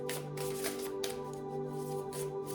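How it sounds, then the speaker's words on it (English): Tarot cards are shuffled by hand in several close, crisp bursts of riffling and sliding, each lasting about half a second, over a faint steady background hum with no talking. "Shuffling for Pisces."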